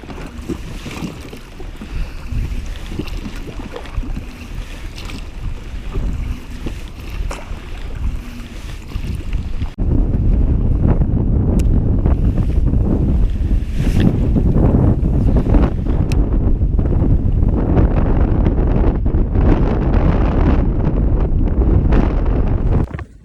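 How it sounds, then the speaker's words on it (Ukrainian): Strong wind roars continuously across the microphone while fishing on a lake with waves, turning louder and heavier about halfway through, with faint splashing water underneath. "Коротше, вітер неможливий, подивіться, як мене несе."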